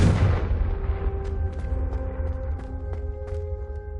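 Fire spell blasts in the Hogwarts Legacy video game, a loud boom at the start then rolling rumble with scattered crackles and pops over a low sustained roar.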